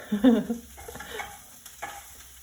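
A pan of chopped onion and garlic for a Spanish omelette sizzles steadily as a spoon stirs it, with a few brief scraping strokes over the low, continuous frying hiss, close by.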